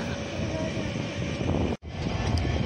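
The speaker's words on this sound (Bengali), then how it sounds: "অলরেডি নিউ জলপাইগুড়ি ঢুকছে ট্রেন" A passenger train rolls into New Jalpaiguri station with a steady low rumble of wheels and carriages close by, briefly dropping out for an instant before the rolling noise resumes.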